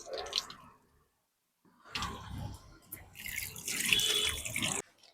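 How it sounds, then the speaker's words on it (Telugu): Chicken pieces for biryani washed under running water, sloshing and splashing in bursts with short pauses, close and moderately loud, with a brief voice at the start. "ఇప్పుడు మనం దీన్ని ఒక 4-5 సార్లు శుభ్రంగా కడుక్కున్నాం"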